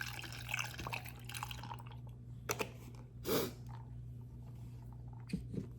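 Planet Oat unsweetened vanilla oat milk poured over ice in a glass, giving a quiet liquid trickle with faint drips and one brief fuller splash midway, soft and close.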